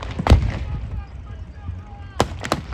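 Artillery fire at a WWI tank battle re-enactment at Bovington: a heavy boom, a lull with faint voices, then two more sharp reports close together.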